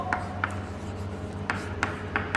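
Chalk or marker taps and strokes on a board in a classroom lesson, a few sharp ticks spaced irregularly over a low steady hum, close and clear.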